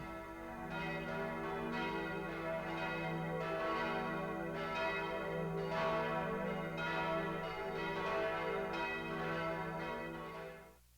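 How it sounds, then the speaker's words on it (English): Notre Dame's church bells peal in the Hunchback of Notre Dame video game, a loud, steady ringing that carries on with rhythmic strikes for about eleven seconds, unaccompanied by speech. "A Paris where the bells of Notredame still pealed out"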